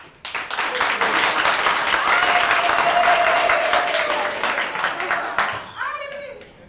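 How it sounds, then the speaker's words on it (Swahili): A classroom group breaks into sustained applause, many hands clapping densely and loudly for several seconds before the clapping thins out and fades, with a few voices rising at the end. "Makofi tafadhali."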